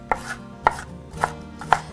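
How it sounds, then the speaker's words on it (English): A knife chops onion finely on a cutting board for risotto, four crisp, evenly spaced chops landing close and clear with no talk. "Then line them up, come back across, and chop fine."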